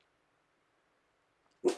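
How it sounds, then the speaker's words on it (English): A dog with a rough, gruff bark gives a single short, loud bark near the end, after a long stretch of near silence. "there's the dog again. He's going to kick off his rough, gruff bark"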